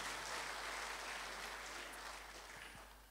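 A church congregation claps during a sermon, a faint, distant wash of applause that fades toward the end.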